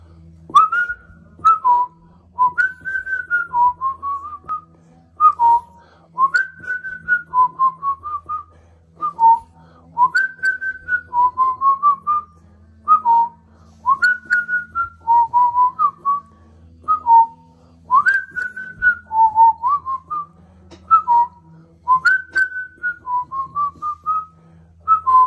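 Someone whistles a short melodic tune, repeating rising and falling phrases in a steady rhythm, close and clear over a faint low hum.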